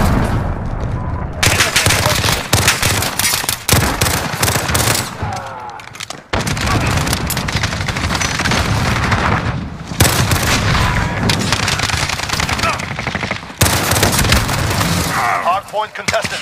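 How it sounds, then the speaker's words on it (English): Call of Duty Modern Warfare multiplayer on Shipment, with dense loud bursts of gunfire and heavy booming impacts in rapid clusters separated by short gaps, a chaotic close battle soundscape. "Allied cruise missile launch."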